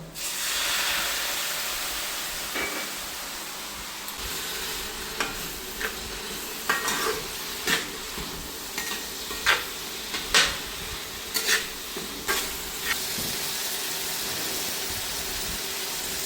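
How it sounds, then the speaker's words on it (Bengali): Potatoes, onion and garlic sauté in a pan with a constant, hissing sizzle, while a spatula knocks and scrapes at irregular intervals, clearer in the second half; no speech. "আলু এবং পেঁয়াজ রসুন কষানো হয়ে গেছে"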